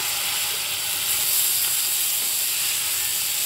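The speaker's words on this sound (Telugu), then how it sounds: "ముందుగా తరిగి పెట్టుకున్న టొమాటోని కూడా యాడ్ చేస్తున్నాను" Chopped tomatoes hit a hot pan for a drumstick curry, giving a steady, loud sizzling hiss that runs unbroken from start to finish with no voices.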